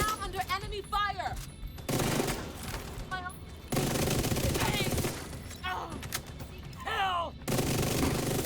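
Gunfire in a video game, with bursts of rapid automatic shots and scattered single shots, loud and close, broken by short pauses while a person talks over it.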